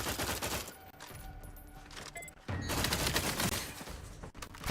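Rapid gunfire from a weapon called the Oracle in the video game The Outer Worlds 2, dense bursts of shots filling most of the stretch with a brief lull in the middle, loud and close.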